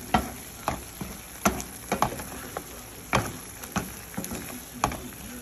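Vegetables frying in a pan while a simple home-cooked dish is prepared, with scattered crackles and sharp stir-and-scrape bursts about every half second over a steady, close sizzle.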